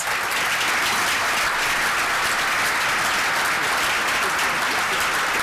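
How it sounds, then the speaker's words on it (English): A room full of dinner guests at a school's annual dinner gives sustained, dense applause, loud and even throughout without a break. "Can we give her a round of applause?"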